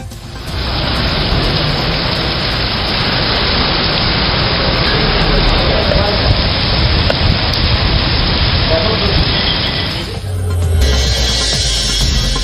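Steady heavy rain falls over Chennai in a continuous, dense hiss that holds at full loudness for about ten seconds before the texture shifts near the end.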